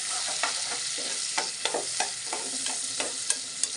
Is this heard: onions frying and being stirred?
yes